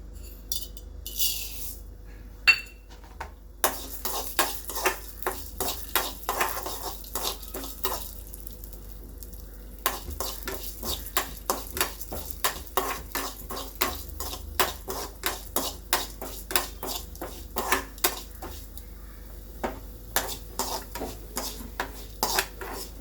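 Pink urad dal roasting in a little oil in a pan, stirred steadily so a spatula scrapes and clicks against the metal in a quick, irregular rhythm, close and clear, with only a faint sizzle underneath.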